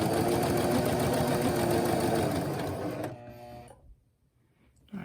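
Domestic sewing machine running steadily as it stitches a straight seam through fabric, a loud continuous mechanical whir for about three seconds before slowing and stopping, then near silence.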